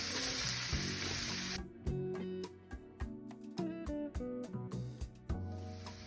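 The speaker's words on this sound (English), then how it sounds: "And just saute this for about 3 to 4 minutes." Red onion sautéing in a pan gives a short, dense sizzle for about a second and a half, then drops away as music takes over for the rest.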